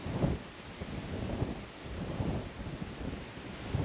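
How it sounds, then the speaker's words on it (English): Wind blows at a beach on a national seashore, a low, steady rumble with gusty buffeting against the microphone and no voices. "All of a sudden, the wind picked up and temperature dropped."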